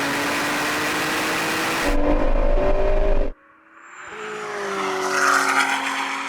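A Chevrolet Corvette Z06 and a Ford GT drag race from a rolling 50 mph start over a half mile, with a loud, sustained engine roar that rises in pitch, cuts off abruptly, then swells back as a distant whine.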